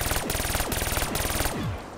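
Rapid automatic gunfire rattles close and loud in Call of Duty Black Ops 3 on the zombies map The Giant. Steady bursts repeat for nearly two seconds before cutting off.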